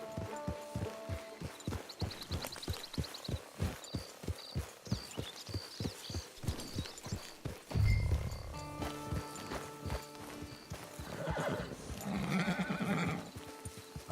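A horse in the video game Red Dead Redemption 2 trots with crisp, evenly spaced hoof clip-clops, then gives a loud whinny and snorts, with further neighing and movement near the end.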